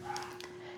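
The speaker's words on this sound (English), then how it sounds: "You might hear my dogs in the background." Pet dogs bark in the background indoors, two short faint yaps in quick succession from a distance.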